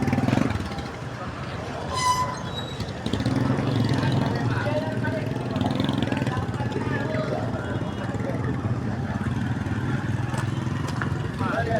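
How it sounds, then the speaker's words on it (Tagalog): A motorcycle with a sidecar, used as a tricycle taxi, rumbles steadily while riding through town near a transport terminal, its engine running under people talking and street noise. "Sakay tayo ng tricycle."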